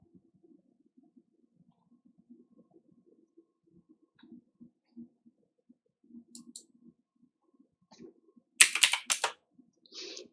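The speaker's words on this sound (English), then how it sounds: "Got to type something in there" Computer keyboard typing during coding work, soft sparse key clicks early, then a louder burst of rapid taps and clacks near the end, close and with no talk.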